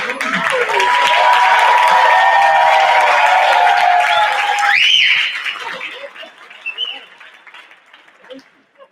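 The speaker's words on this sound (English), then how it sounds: "One more round of applause for Geraldine Jones" An audience at a theatre awards gala gives loud, sustained applause with cheering for about five seconds. It then dies away into scattered claps, chuckles and murmured voices.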